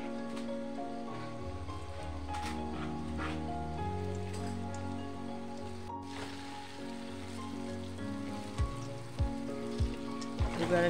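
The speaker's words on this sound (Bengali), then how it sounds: "লালমোহনগুলো ভেজে নিই তেলে।" Lalmohan sweets frying in white oil in a kadai, a steady hiss and crackle of sizzling with soft background music layered over it, and a few clacks of a utensil near the end.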